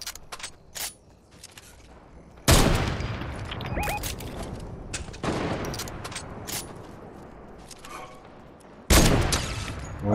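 Video game gunfire in bursts: a loud volley near the start, scattered single shots and clatter in between, and another heavy burst toward the end, with quieter mechanical noises and distant shots filling the gaps.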